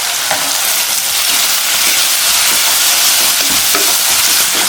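Sliced onion and turmeric powder fry in hot oil for potato palya, giving a loud, close, continuous sizzle with intermittent scraping and clinking of a stirring spoon against the pan.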